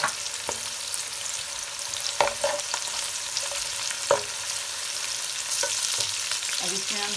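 Onion, ginger and garlic fry in oil in a pan with a steady, close sizzle, punctuated by a few sharp clicks of a spoon stirring through the mixture.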